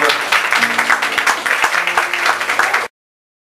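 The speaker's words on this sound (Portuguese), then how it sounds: "Salva de palmas, por favor." Loud, close applause from an audience at a live musical performance runs in a dense rhythmic burst of claps with cheering mixed in, then cuts off abruptly to silence.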